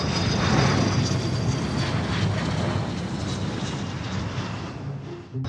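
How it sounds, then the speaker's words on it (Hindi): A passenger airplane flies overhead, a loud, steady engine roar that fills all five seconds without a break and fades slightly toward the end. "फ्लाइट हवा में उड़ने लगी"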